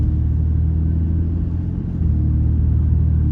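A BMW Z4 Coupe's N52 inline-six idles steadily after fresh spark plugs and coil packs, a constant low rumble with an even, smooth tone throughout and no voices.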